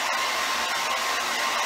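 A hair dryer blows with a constant, loud whooshing hiss and a faint whine, close by and uninterrupted.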